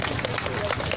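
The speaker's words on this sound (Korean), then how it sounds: "좋은 공연해주신 역사 청소년 합창단을 위해 다시 한번 큰 박수 부탁드립니다" A crowd at an outdoor Wednesday rally applauds a youth choir after its performance, a brief, dense wash of steady clapping with a faint murmur of voices mixed in.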